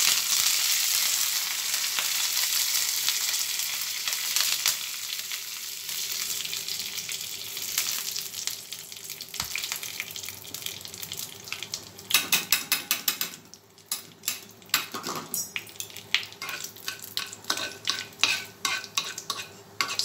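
Chana dal and curry leaves frying in a tempering, a loud crackling sizzle that gives way to rapid metallic scraping and clicking of a spoon stirring the pan.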